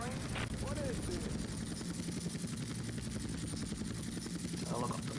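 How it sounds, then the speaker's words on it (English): In-game helicopter from Grand Theft Auto Vice City, a steady loud rotor thrum with a dense low chop running throughout, with brief voice sounds over it. "Helicopter."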